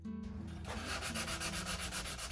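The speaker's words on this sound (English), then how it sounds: "I used my random orbit sander" Steady whirring and rasping of a random orbit sander working wood, continuous and close, with a constant motor hum underneath.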